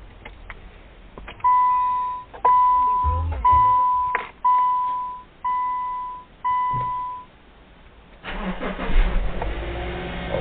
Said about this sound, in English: Start my car and cycle the shifts.